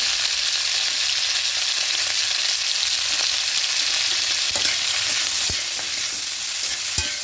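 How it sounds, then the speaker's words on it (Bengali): Cauliflower florets seasoned with salt and turmeric frying in hot oil in a pan, a dense continuous sizzle with occasional soft stirring clicks, close and steady with no talk. "ফুলকপিগুলোকে লাল লাল করে ভেজে নেব"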